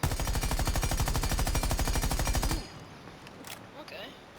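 Maverick's rapid-fire gun in Rainbow Six Siege, a loud, steady automatic burst of evenly spaced shots for about two and a half seconds, then cut off, leaving quiet game ambience with faint clicks.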